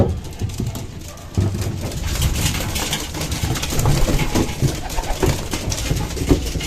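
Pigeons being fed coo and flutter steadily throughout, with pecking and shuffling noises of a flock close by; no talking.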